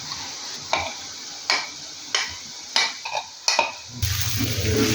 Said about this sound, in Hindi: इसको हम गाइस अच्छे तरीके से इसके अंदर भूनेंगे ऐसे ऐसे